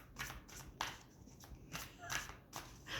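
A deck of cards is shuffled in several quick riffling bursts, close and crisp, with short pauses between them.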